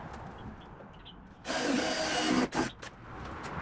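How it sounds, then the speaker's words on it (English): A power drill bores out wooden dowels in an old TV cabinet, with a quiet lead-in, then a loud sustained whirring run of about a second, a brief second burst and a faint trailing rattle. "Using the drill to get that dowels drilled out"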